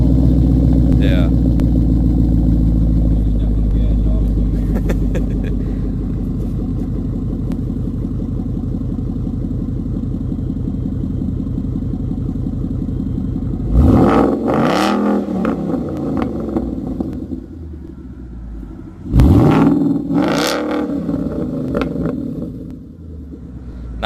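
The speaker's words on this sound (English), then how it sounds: "I love the crackles and the pops that the Roush gives off." A Roush Mustang rumbles at a deep, loud idle for a long stretch, then two sharp revs ring out a few seconds apart, each trailing off with crackles, all close by.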